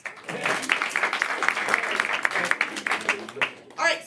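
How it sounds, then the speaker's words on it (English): Audience at a live improv comedy show clapping for themselves, a lively burst of hand claps that rises and thins out, with a voice briefly coming in near the end. "Clap for yourselves."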